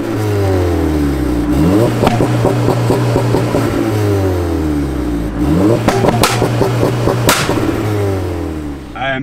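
A 380bhp SEAT Leon Cupra track car accelerating hard, loud engine climbing through the revs, dropping back at each gear change, then surging again, heard close and dominant throughout.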